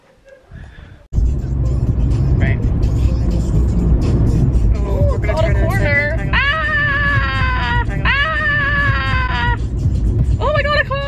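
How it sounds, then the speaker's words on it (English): A car swishes past with a loud, steady road roar that starts abruptly and carries on. High wavering cries and a voice sound over it. "Oh my god, a car!"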